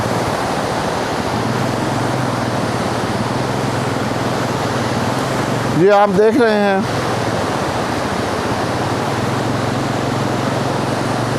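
A rushing river of snowmelt among the high Gilgit mountains gives a loud, steady, close roar of water throughout, and someone speaks briefly over it midway.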